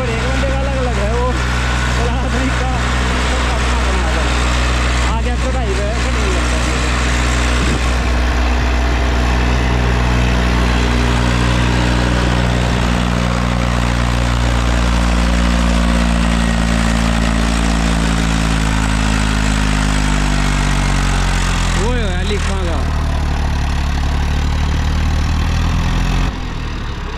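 An Eicher tractor stuck in loose sand runs continuously near and loud, a deep droning engine whose pitch rises and falls as it strains, with voices talking over it.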